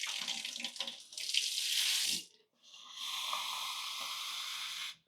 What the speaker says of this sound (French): tu rajoutes de l'eau